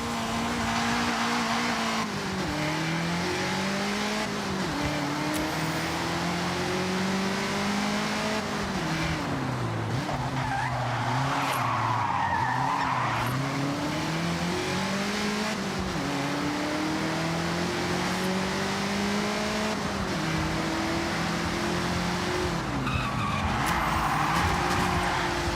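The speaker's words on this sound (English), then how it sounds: "Drifters like to induce oversteer and send it all the way around." Engine revving and tires skidding as a car drifts through sustained oversteer in the racing game Forza Horizon 6, a loud continuous whine rising and falling with squealing tire noise throughout.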